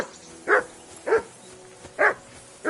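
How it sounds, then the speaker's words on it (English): A dog in the medieval video game Kingdom Come barks four times at a steady pace, each bark short and sharp and fairly close, over a quiet hum with no speech. "Whistle at that mutt of yours to stop barking."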